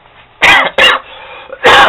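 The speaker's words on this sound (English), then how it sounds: "I got a little bit of cough" Two sharp coughs close together, then a pause and a third loud cough, close to the listener with no speech between them.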